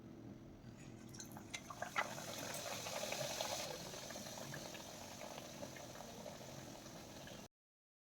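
Shegaon kachori deep-frying in hot oil gives a continuous soft bubbling and fizzing, with small pops scattered through it, that holds steadily and then stops abruptly near the end; no voices.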